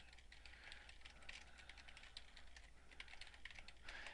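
Fast, steady typing on a computer keyboard, close and quiet, with light clicky keystrokes in a continuous run and no voice.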